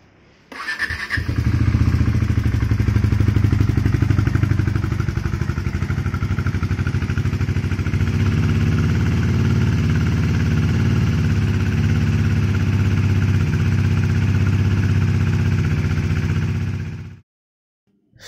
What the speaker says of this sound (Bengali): তো বেরোনো হবে, তার আগে গাড়িগুলো একটু ওয়ার্ম আপ করে নেওয়া ভালোই